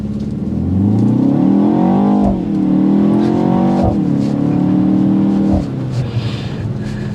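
A BMW X1 M35i engine revs up hard, pitch climbing through several gear shifts with a brief dip between each, loud and close from inside the cabin.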